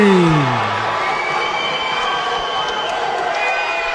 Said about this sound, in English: The crowd absolutely delighted, as is Gideon Antwi.